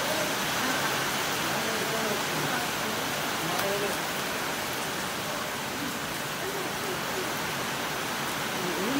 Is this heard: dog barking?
no